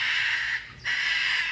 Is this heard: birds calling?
yes